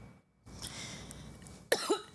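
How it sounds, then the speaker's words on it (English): A single sharp cough bursts out near the microphone after a quiet, hissy stretch, followed by a short rough throaty rasp. "I'm trying not to cough"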